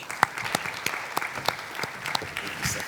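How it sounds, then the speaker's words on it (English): Audience applause at a municipal finance officials' gathering in KZN as a speaker walks up to the stage, a steady patter of claps with sharper individual hits, moderately close and without talk over it. "A round of applause as Mr. Micheal comes forth to the stage"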